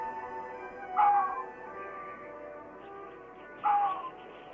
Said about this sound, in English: These solitary animals communicate over long distances by barking.